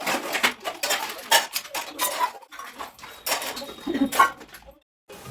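Metal dishes, pots and cutlery clatter and clink close by in bursts of sharp rattles, with short pauses and a quiet gap near the end.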